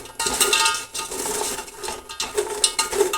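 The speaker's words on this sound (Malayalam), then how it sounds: "എന്നിട്ട് വീണ്ടും ഇളക്കി കൊടുക്കുക" Jaggery-coated banana chips are stirred in a pan, producing a steady stream of scraping, clinking utensil-on-metal sounds. The rattle comes up close and continuous, with a few brighter clinks near the end.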